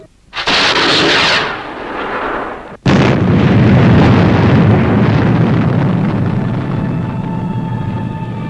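A rocket engine ignites and roars for launch as a television sound effect: a sharp burst, a brief cut to silence, then a loud sustained rushing roar that slowly eases.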